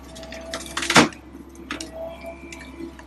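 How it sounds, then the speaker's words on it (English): Excavator tree shear attachment cutting through a tree about 12 inches thick: a sharp, loud crack near the start of the shear stroke, surrounded by quieter creaking and snapping of wood over a low machine hum. "So we'll just shear the tree off so you can see how it works."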